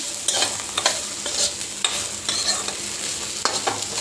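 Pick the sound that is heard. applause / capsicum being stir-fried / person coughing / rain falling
capsicum being stir-fried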